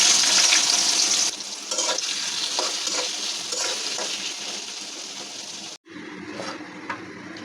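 Onion frying in oil with cardamom, cinnamon and bay leaves for a spicy Bengali chicken kosha, a steady loud sizzle with stirring scrapes that breaks off briefly near the end, then resumes more quietly.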